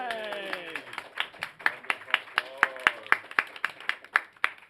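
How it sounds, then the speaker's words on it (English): A small audience claps in a steady, even rhythm, each clap crisp and distinct, after a brief burst of excited voices at the start. "Round of applause."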